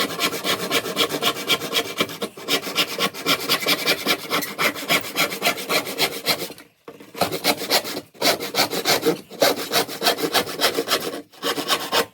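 Hand sawing through wood while cutting a piece for a fitted five-shelf DVD unit, steady rhythmic rasping back-and-forth strokes, close and alone, with a few brief pauses between bursts.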